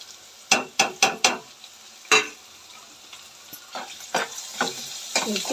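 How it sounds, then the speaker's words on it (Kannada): Carrot, seeds and dry chillies fry in oil with a low sizzle, broken by a burst of sharp scraping stirs early on and softer stirring clatters later. "ಸ್ವಲ್ಪ ಇದನ್ನು ಸ್ವಲ್ಪ ಆಯಿಲಲ್ಲಿ ಚೆನ್ನಾಗಿ ಬೇಯಲಿಕ್ಕೆ ಬಿಡಬೇಕು"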